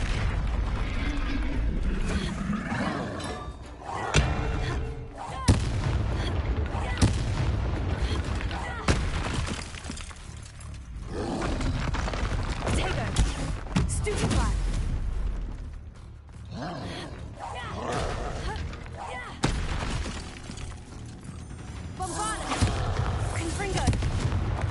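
Spell blasts from Confringo and Bombarda in Hogwarts Legacy, played on PS5, boom repeatedly over a busy combat mix, with several loud impacts and rumbling bursts spread across the stretch and a voice talking at points.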